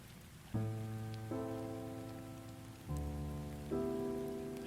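Steady rain on a city street at night, a soft, even hiss running beneath sustained musical chords that change every second or so.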